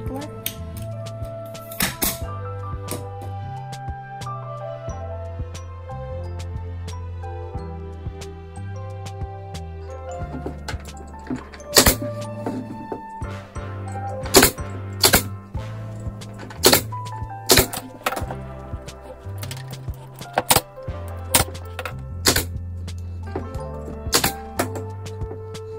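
An upholstery staple gun fires repeatedly into fabric stretched over a thrifted French-style piece of furniture, with sharp clacks at irregular intervals over soft background music.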